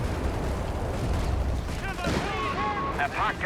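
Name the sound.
grenade explosions and gunfire in video game Company of Heroes 3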